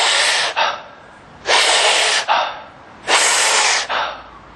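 Deep breaths during a guided breathing exercise: three loud, close, airy inhales, each followed by a shorter exhale, in an even rhythm with pauses between them.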